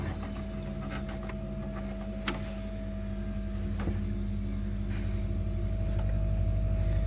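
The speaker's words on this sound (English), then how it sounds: "I can hear the motor running in the fridge" A campervan fridge motor runs with a steady low hum and a faint whine, holding constant and growing slightly louder throughout, alone in a quiet space.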